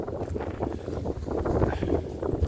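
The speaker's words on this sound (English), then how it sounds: "Here comes the wind." Outdoor wind gusts over open rural property, buffeting the microphone as a steady, rough low rumble that swells and eases over a few seconds, with no voices.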